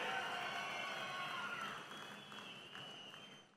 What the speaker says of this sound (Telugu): అవును అంటే గట్టిగా చప్పట్లు కొట్టి అభినందించండి ప్రధానమంత్రి గారిని